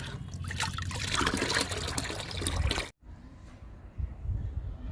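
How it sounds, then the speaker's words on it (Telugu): Liquid kitchen-waste fertilizer pours and splashes steadily onto a potted drumstick plant for about three seconds, then stops abruptly, leaving a quieter trickle and faint rustling. "వాటర్ బదులు కిచెన్ వేస్ట్ లిక్విడ్ ఇస్తున్నాను"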